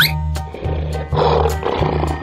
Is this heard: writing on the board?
no